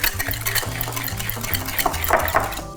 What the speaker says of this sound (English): Whisk that all together until it's nice and frothy